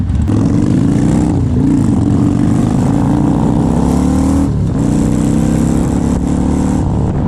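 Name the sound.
motorcycle riding away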